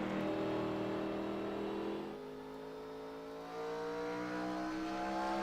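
High-revving race car engines at Richmond in a racing video game, several cars droning steadily with rising and falling engine pitch, loud and continuous with a brief dip midway.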